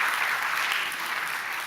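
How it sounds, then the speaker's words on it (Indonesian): A church congregation at an Indonesian-language service claps together in steady, dense applause that fills the room for the whole short stretch, with no voices rising above it. "Beri tepuk tangan untuk Tuhan."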